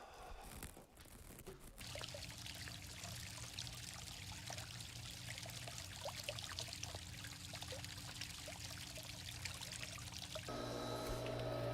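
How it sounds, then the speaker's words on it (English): Water runs steadily from a tap left on in a church building, a continuous soft trickling pour that holds through the whole stretch, faint and distant with no talk over it. "Oh, I left the water on."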